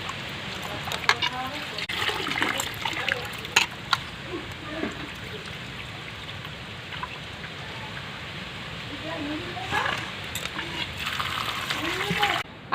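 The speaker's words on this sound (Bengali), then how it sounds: "এবার আমি আমগুলোকে ভালো করে ধুয়ে নেব।" Cut raw mangoes being rinsed in water after soaking in lime water for pickle, with gentle splashing, trickling and dripping at close range, fairly quiet, and a voice speaking faintly in the background.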